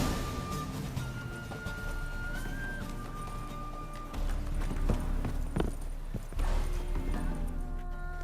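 Horse hooves clip-clop at a steady walking rhythm in The Witcher 3, sitting under game music and ambient sound with a few sharper knocks later on, near and moderate in level.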